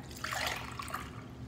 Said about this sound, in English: I'm just gonna pour the water back into my cup